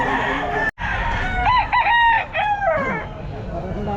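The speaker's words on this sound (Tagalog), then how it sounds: "Manok lang sir, manok lang." A rooster crows loudly and close by at a pet market in Baliwag, a drawn-out cock-a-doodle-doo over background chatter and clucking.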